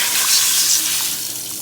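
Steady hiss of water streaming into a pot of washed rice, a continuous bright rush that holds fairly loud and even for the whole moment.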